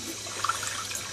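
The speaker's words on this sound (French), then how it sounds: "je vais prendre un verre d'eau et je vais mettre ceci, un peu d'eau de robinet" Tap water running into a glass, a short close trickle and splash with no talking.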